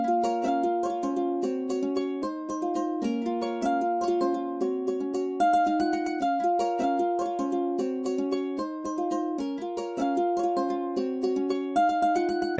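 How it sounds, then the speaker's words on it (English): Ukulele sample bank played in Kontakt, giving steady plucked chords in a strummed, rhythmic pattern that runs clean and continuous at close range with no voices. "So this is how the ukulele bank sounds like."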